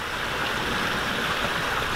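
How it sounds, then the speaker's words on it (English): Water trickles and splashes steadily in a backyard tranquility pond, a constant near, soft rushing flow with no voices over it. "And the sound of the water."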